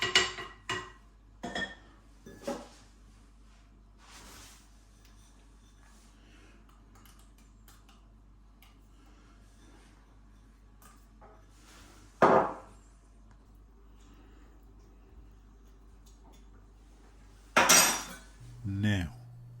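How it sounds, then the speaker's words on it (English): Garlic sliced with a knife on a board, a few crisp chopping knocks clustered at the start and then isolated single thuds separated by long quiet gaps with a low background hum. "chop up the garlic, not roughly, into nice slices"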